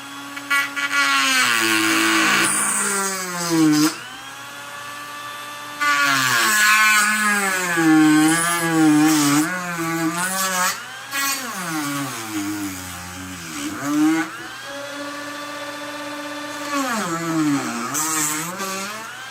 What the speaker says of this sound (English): Now it's time for the Dremel tool.